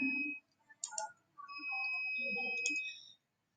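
A mouse clicks on an apply-for-PAN-card button on a website, giving a couple of short, crisp clicks among brief electronic tones and faint background murmur.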